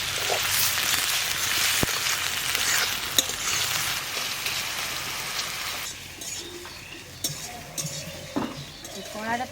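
Onions hit hot oil with cumin in a kadai, giving a loud sustained sizzle and frying hiss, followed by stirring and clinks of a utensil against the pan as the sizzle settles.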